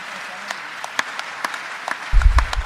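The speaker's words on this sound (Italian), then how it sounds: "l'applauso di tutta la sala che si è alzata in piedi in memoria di questo" A congress hall audience stands to applaud in memory of a late colleague, heard as scattered, fairly close claps over a quiet room, with a low rumbling burst of movement near the end.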